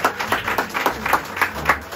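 Audience at the grand final of a children's reading contest clapping in a brief, uneven round of applause, moderately loud and close, with a few voices faintly mixed in.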